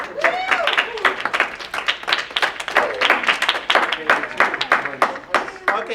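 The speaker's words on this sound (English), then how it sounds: "Let's clap up for our contestants." Classroom audience clapping for contestants: uneven, moderately loud handclaps from a small group, with scattered voices and talk mixed in throughout.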